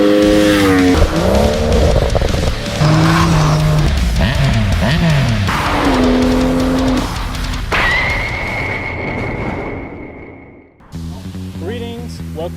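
A 2019 Triumph Speed Triple RS motorcycle engine revs loudly and close, its pitch sweeping up and down through repeated throttle blips, then holding a sustained high whine before a short drop and fresh revs.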